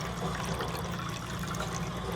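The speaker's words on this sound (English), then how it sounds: "And drink some water." A character in the space survival game Stationeers drinks water, a short soft liquid gurgle and slosh at low level, with no talking.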